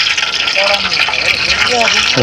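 Curry leaves dropped into hot oil for a chicken gravy cooked aboard a work boat, giving a loud, continuous crackling sizzle with a voice talking over it.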